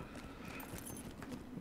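Hooves clip-clop steadily on a horse in the game Lord of the Rings Online, a continuous busy patter running at a moderate level through the whole short stretch.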